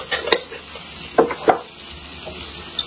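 Tomatoes and onions sauté with turmeric powder in a pan, a close, steady sizzle broken by a few sharp stirring scrapes.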